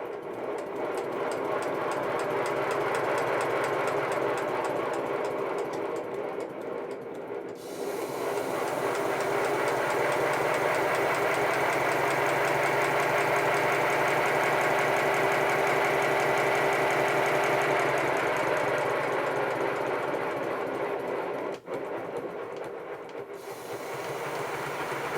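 A small homemade steam locomotive running on about 50 psi of boiler pressure, giving a loud, steady mechanical chuffing and clattering for about 25 seconds, with a brief dip near the start and a sharp knock late on.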